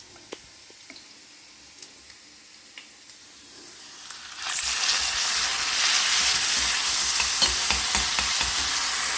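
Jakhiya seeds and spices hit hot oil as a tadka for a homemade pumpkin sabzi. After a quiet stretch with faint ticks, a loud, sudden sizzle bursts in and keeps crackling steadily up close.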